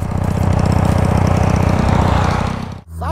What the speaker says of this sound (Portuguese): Moto parece que tá fazendo um barulho diferente